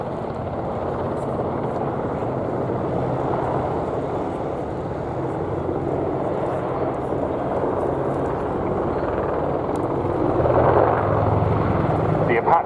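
Boeing AH-64 Apache attack helicopter flying at the Duxford airshow, a steady rumbling rotor and engine drone that grows a little louder near the end, with a commentator talking over it on the public address.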